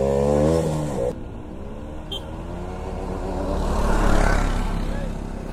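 A motorcycle engine revs hard during wheelie practice, a low droning tone sliding down before a broad roar builds and swells, loud and close.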